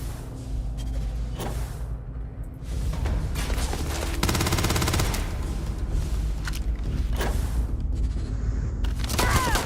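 Rapid pistol fire in the shooter game Dune Awakening, sharp repeated cracks over a dense rumble of battle noise and distant explosions, steady and loud throughout with no break.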